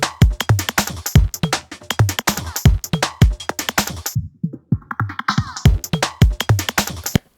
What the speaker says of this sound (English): a filter sweep from the low frequencies happens